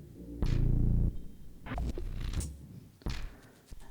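Rhythmizer plugin by Welded Production processing a track: choppy, gated bursts of gritty, scraping noise with low thumps, cutting in and out in irregular rhythmic chunks at moderate level.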